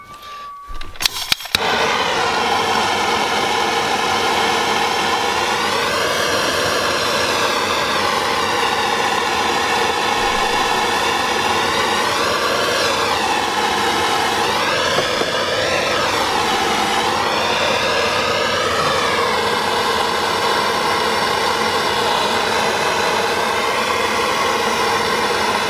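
A heat gun warming wiring during dashboard bezel fabrication, starting with a click, then a loud, steady, close blowing roar that holds for the whole stretch, its pitch wavering slightly now and then.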